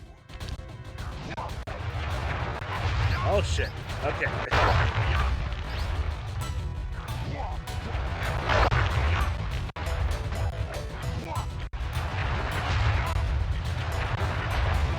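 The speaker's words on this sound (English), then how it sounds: "I will send you to your doom with the beauty of my new firework technique, Flame Foo." Loud, dense bursts and crashes from a firework attack in the video game Sly Cooper and the Thievius Raccoonus, a continuous barrage with a few brief breaks and a short exclamation from a man.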